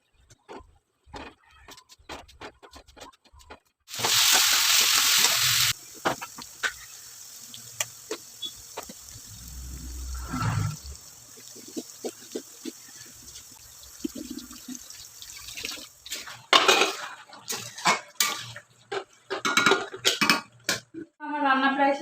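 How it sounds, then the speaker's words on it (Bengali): Dishes, pots and pans from cooking are washed at a sink, with a loud burst of running tap water, then scattered clinks, scrapes and drips, plus occasional clatter of utensils. "রান্না করতে করতে যা বাসন হয়েছিল ওগুলো মেজে নিলাম"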